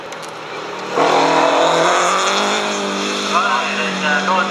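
A Ford Cortina Mk2 race car, number 47, racing at Leyburn, roars in loudly and close with a sharp rise in engine noise, then holds a strained, revving drone as it passes, over a busy background.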